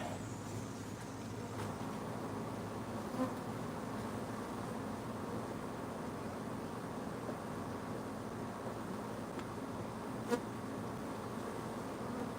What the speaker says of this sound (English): See all these bees here?